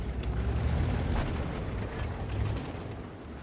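Tank cannon fire in a tank video game, a heavy blast and rumbling explosion that hits hard and then rolls away into a fading low roar.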